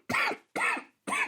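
A person coughs three times in close succession, each a short, harsh burst with a brief pause between, close to the microphone and with no talking.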